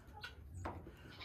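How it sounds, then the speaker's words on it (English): A homestead goat bleats in short, quiet calls over farmyard background noise, a couple of brief cries spread across the moment with no clear talk. "Is you a good boy, goat?"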